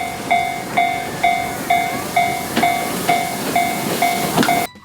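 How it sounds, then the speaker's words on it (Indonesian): A Thomas toy train plays its electronic sound effect: a loud, close run of about ten regular chuffing pulses, each a tone plus a hiss, ending abruptly. "Ini kereta Thomas teman-teman."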